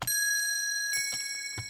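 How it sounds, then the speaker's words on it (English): Bright bell melody in an underground hip-hop beat, ringing minor-key tones with sustained overtones, joined by soft kick thumps and light percussion hits, steady and fairly loud with no voices. "these are the bells"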